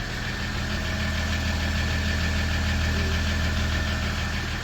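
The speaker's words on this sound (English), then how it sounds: "Weird fuel pump sound. I think it's my fuel pump." A 2014 Ram 1500 idles with a steady, close engine drone and a continuous low mechanical hum; a faint surging whine, likely from a failing fuel pump, runs underneath. No one speaks.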